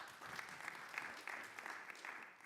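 An audience at a panel session of an energy and climate forum claps, a steady patter of many hands at moderate distance, sustained and fairly quiet throughout.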